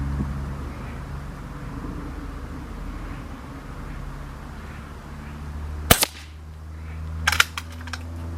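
A Webley Venom Viper air rifle fires a sharp, loud crack followed by a few quieter clicks and snaps, over a low steady hum.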